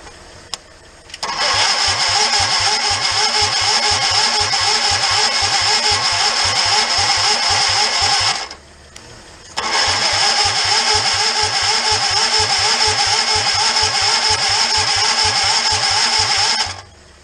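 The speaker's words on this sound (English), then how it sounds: "It doesn't sound like it's cranking as fast." Two long, loud bursts of an electric starter cranking a swapped-in 19 hp small engine, steady rapid chugging, separated by a short pause; the engine never catches.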